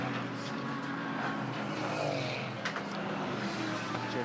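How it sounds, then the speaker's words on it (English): GT race cars at Sydney in the Fanatec GT World Challenge Australia 2023 roar steadily at race pace, a continuous loud engine drone with faint tyre noise underneath. "Jaden Ojeda, who's now behind the wheel of car 101."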